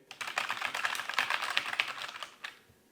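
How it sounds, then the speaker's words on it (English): Rapid clacking keystrokes on a computer keyboard, close and crisp, tapping in quick irregular bursts before trailing off. "it makes too much noise when I'm typing"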